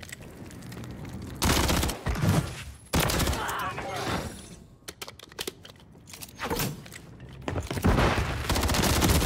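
Bursts of rapid SMG gunfire from the video game Modern Warfare 3 crackle in several loud volleys, separated by short gaps, with players' voices talking over parts of the action.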